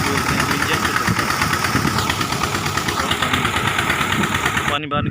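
An engine-driven water pump lifts canal water to irrigate a sugarcane field, a loud, steady, close mechanical idle with constant rattling vibration that cuts off abruptly at the end.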